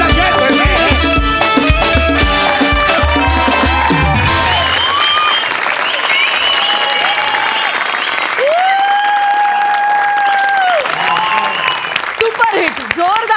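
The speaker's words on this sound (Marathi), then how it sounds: "सुपरहिट, जोरदार टाळ्या" Loud, sustained audience applause from a live Marathi comedy show audience fills the room, broad and continuous, with music tones and a voice layered over it.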